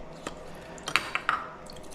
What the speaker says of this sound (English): Little spritzes of water.